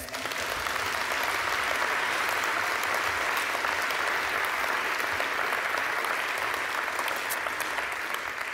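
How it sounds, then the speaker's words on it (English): A round of applause from a large audience for dancers taking the stage, loud, dense and steady from start to finish with no voices breaking through. "let's give them a round of applause"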